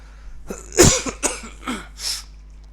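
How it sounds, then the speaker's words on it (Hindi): Several harsh coughs in a row, close and loud, with short pauses between them and no talking. "इस तरह से खांसी आती रहेगी, I am sorry for it"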